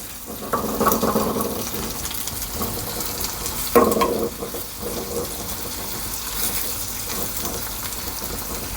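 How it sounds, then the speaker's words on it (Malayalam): Curry leaves, garlic and onion fry in a pan with a moderate, steady sizzle, broken by stirring clatters and a louder clank near the middle. "ഈ സമയത്ത് തന്നെയാണ് നമുക്ക് വെളുത്തുള്ളി, ഉള്ളി ഒക്കെ ചേർക്കുന്നത് കേട്ടോ."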